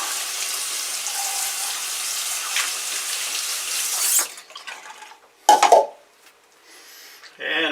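Wet tumbler water with foamy soap, brass cases and stainless steel pins being dumped out: a steady pouring rush for several seconds, then a few sharp metallic clatters and splashes with short gaps between.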